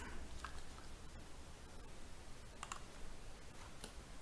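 A deck of oracle cards being shuffled by hand, giving faint, soft crisp riffles and scattered light clicks over a quiet hiss, with no talking.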